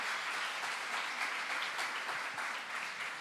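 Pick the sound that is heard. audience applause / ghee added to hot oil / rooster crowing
audience applause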